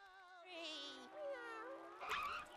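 A cartoon snail's voice lets out a drawn-out, wavering meow, rising and falling like a cat, followed by a brief breathy burst.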